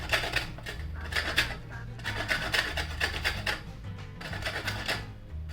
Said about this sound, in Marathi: वरचा भाग आहे ना तो असा नुसता किसून काढायचा